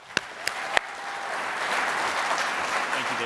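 An audience welcoming a speaker to the stage at a presentation on the Xerox Alto computer: a few sharp early claps, then sustained, even applause from a crowd filling the rest.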